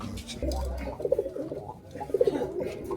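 In a pigeon shop at Boro Bazar, Khulna, pedigree pigeons coo in short, throaty bursts. Someone talks over the birds, and a low thump comes near the start.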